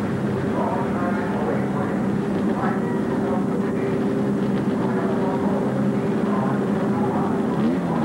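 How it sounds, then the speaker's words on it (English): A field of race cars at Darlington fires up for the 1988 Gatorade 200, a dense, continuous roar of engines heard from a distance. "Drivers, start your engines."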